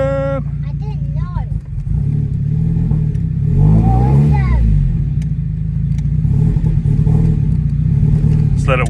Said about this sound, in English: Let's give it a start now.